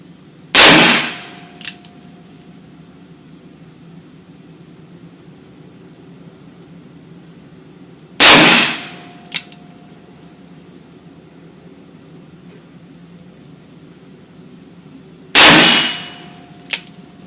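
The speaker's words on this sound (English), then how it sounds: "Now we're going to shoot the mixed brass, same load, 7 grains of long shot, and that 174 grain Keith semi-wad cutter in mixed 38 special brass." A .357 Magnum revolver fires 38 Special mixed-brass handloads with 174-grain Keith semi-wadcutters over a light powder charge at an outdoor range. Three loud, sharp reports come several seconds apart, each with a brief ringing tail, and quiet range ambience fills the gaps.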